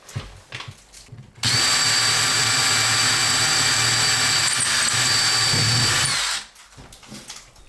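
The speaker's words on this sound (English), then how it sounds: "now I get to drill these out and hope for the best" A power drill whines loudly and steadily for about five seconds, drilling holes for cabinet handles, bracketed by quieter handling noises before and after.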